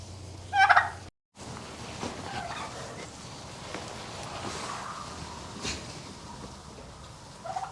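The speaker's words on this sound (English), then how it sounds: "you can see I do have turkey as well" A farm turkey tom gobbles once loudly near the start, a short rattling burst, followed by quieter barnyard ambience with scattered rustling and faint knocks.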